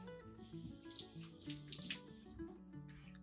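Faint running tap water from a kitchen faucet, used to wet hands before folding sourdough, steady and splashy under soft background music, with no talking.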